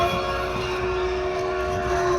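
An amusement park ride train at a hill-station fun park gives a sustained tonal whistle-like drone over rumbling running noise. The sound is loud and close and continues through the short stretch without speech.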